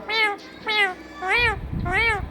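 A pet parrot imitates a cat's meow, giving four clear, separate mewing calls at an even pace, close and loud, with some background noise under the last two.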